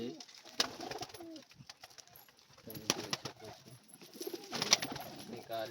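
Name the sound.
pigeons cooing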